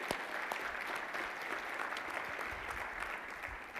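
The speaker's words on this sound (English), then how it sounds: "Let's give them a round of applause." Sustained audience applause fills the room at a scholarship recognition event, steady and dense clapping from a large crowd with no talk over it.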